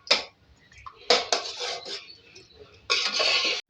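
Beef arvi gosht being mixed in a metal pot, with several loud clanking spoon scrapes in separate bursts and a longer grinding stir at the end, close up with no talk.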